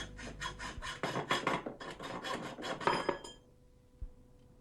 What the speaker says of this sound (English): Trim the pipe to length as required.